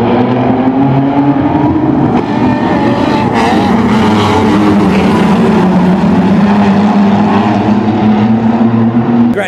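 Wingless sprint cars race a heat at Timmis Speedway in Mildura, with several engines roaring and revving together in a loud, sustained pack that rises and falls as they pass.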